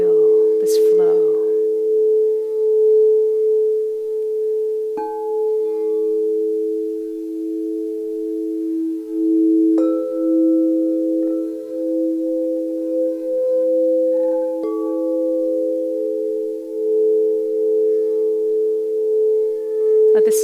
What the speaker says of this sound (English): Let the sound of the bowls help you connect to that beat.